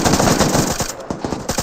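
Machine gun fire in a military video game, a rapid burst of shots at the start followed by more spaced, sharp rounds, loud and close with no talk.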